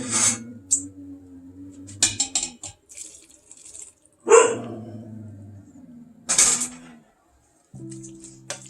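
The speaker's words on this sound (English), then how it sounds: "He normally is not a real barky dog, but there must be someone out there." A dog barks a few times from a distance, short sharp barks spaced apart, amid quiet kitchen sounds of pasta cooking.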